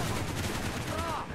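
Heavy automatic gunfire rattles through a Call of Duty: Black Ops campaign battle, a steady loud barrage with a brief whining tone near the end, with no talk over it.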